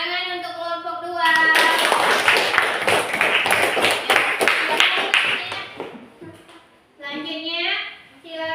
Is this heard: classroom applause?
yes